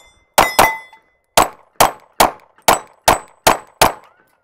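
Shadow Systems CR920 pistol fired at steel target plates, each shot a sharp report with a ringing metallic clang: a quick pair, then six more at an even, rapid pace, loud and close.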